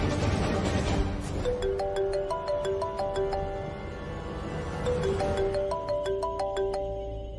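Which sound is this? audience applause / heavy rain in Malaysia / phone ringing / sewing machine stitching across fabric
phone ringing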